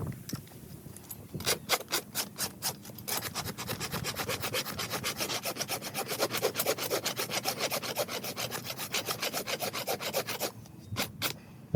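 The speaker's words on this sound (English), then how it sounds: "Then we'll level everything up with the rasp." A farrier's rasp files and levels a horse hoof during a hoof restoration, producing steady rhythmic rasping strokes, close and loud, in a dense run of fast repeated scrapes with short pauses at the start and end.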